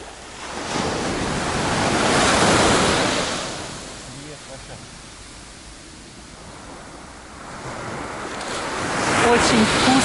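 Ocean surf washing onto Cleopatra Beach in Alanya, Turkey, in November, swelling and receding in slow surges, with wind noise buffeting the microphone.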